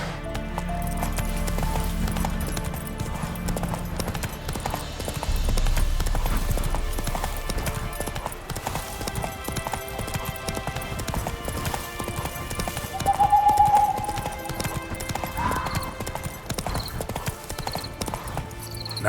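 Roach the horse gallops in The Witcher 3, steady clip-clop hoofbeats running throughout over a game music bed, with a brief whinny-like tone partway through.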